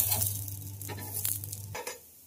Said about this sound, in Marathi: आता दुसऱ्या बाजूने छान असे खरपूस शालो फ्राय करून घ्यायचे